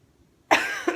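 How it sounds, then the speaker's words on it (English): A single close, sharp cough from a person with allergies bursts out after a moment of near silence, followed by a quick second huff. "if I cough a few times, I apologize"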